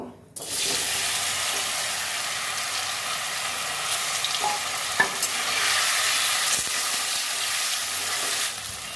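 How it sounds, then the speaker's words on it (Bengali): Pieces of paneer fry in hot oil in a pan with a steady, dense sizzle that holds loud and close from start to finish, with a few faint knocks. "পনিরগুলো ভেজে নেব"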